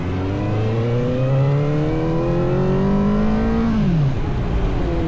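A CFmoto 500SR motorcycle engine revs and rises in pitch as the bike accelerates along a straight for a brake test, then the note drops sharply near the end; loud, steady and close, with no talk.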